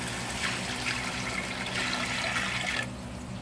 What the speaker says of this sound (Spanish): le vamos a agregar lo que molí con